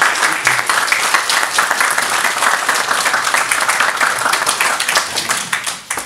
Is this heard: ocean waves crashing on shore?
no